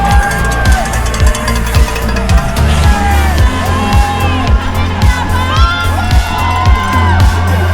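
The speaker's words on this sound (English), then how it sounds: "Just seeing the crowds on Main Street really got me going" Loud crowd lining Main Street at the Walt Disney World Marathon, cheering, whooping and shouting continuously close by, with children's high yells and rhythmic thumps under the roar.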